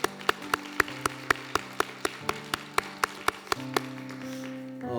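A church youth-service congregation claps in steady time, sharp evenly spaced claps repeating over sustained keyboard chords, moderately quiet and continuous throughout.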